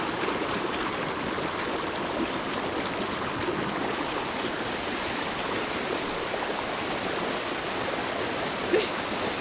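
A hidden waterfall and stream rush steadily and evenly throughout, a dense, continuous wash of falling and flowing water close by with no breaks.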